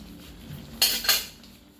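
A metal utensil clanks against a pot while stirring ginataan stew with coconut milk and vegetables, giving two sharp scraping clinks in quick succession over a quiet kitchen background.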